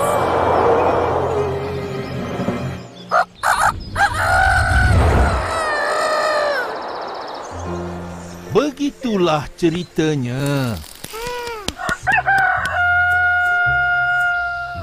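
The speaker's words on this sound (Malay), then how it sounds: "Sampai sekarang ayam jantan masih berkokok." A rooster crows clearly several times, loud and near, alongside clucking and other fowl calls, with a narrator speaking around it.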